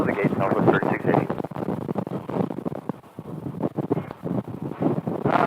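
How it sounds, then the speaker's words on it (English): Wind gusting across the microphone at Phoenix's airport, a steady rushing buffet that fills the clip beneath voices talking. "like the wind is picking up"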